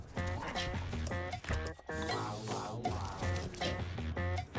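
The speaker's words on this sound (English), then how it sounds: "Yeah, he's a rescue dog." A rescue dog barks and yips in quick repeated bursts, loud and close, with a whimpering stretch in the middle, set in a TV commercial aired during a Kansas at Oklahoma State broadcast.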